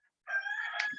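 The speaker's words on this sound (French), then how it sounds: "Vous allez entendre le coq." A single rooster crows once in a drawn-out, strained call heard from a short distance, fairly faint against an otherwise quiet indoor background.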